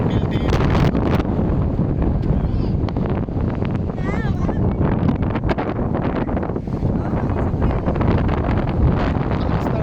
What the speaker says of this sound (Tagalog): Napakalakas talaga ng hangin, Diyos mio.